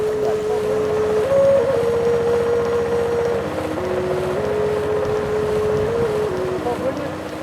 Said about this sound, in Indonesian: Perahu atau motor lindu yang selalu digunakan warga Lindu tidak menggunakan sayap penyeimbang